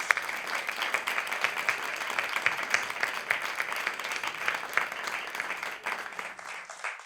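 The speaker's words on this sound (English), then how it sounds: "let's give them one last round of applause" Listeners at a creative writing graduate reading applaud the readers, a moderate crowd of hands clapping steadily with crisp individual claps standing out, tapering slightly at the close.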